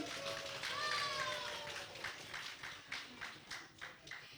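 Kindergarten performers at a children's talent show are greeted with applause that starts out dense and steady, then fades into scattered, rhythmic clapping bursts. A brief whistle-like squeal cuts through early on.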